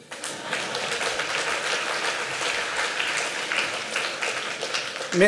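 An audience at a regional climate plan event in Provence-Alpes-Côte d'Azur applauds steadily for about five seconds, a dense, even wash of many hands clapping with no talk on top.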